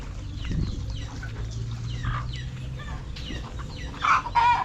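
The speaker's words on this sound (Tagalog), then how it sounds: "Ay mga alaga nating sisiw." Pet chicks cheep in short, high bursts that come near the end. Before that there is a low, steady rumble with a faint hum.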